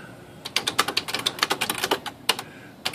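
Keys on a Smith Corona electronic typewriter are pressed in quick, uneven bursts of sharp clicks and clacks, close and clear, with short pauses between runs and no speech.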